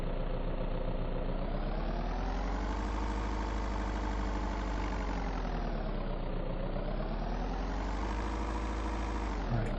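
A vehicle engine idles continuously in the horror survival video game Vein, a loud, steady low rumble with a gently wavering pitch that dips and rises, with no talking over it.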